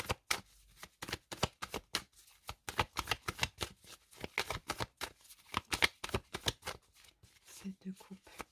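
Tarot cards being shuffled and handled, with quick papery flicks and riffles in a busy rhythm, close and fairly quiet, running under someone speaking French throughout.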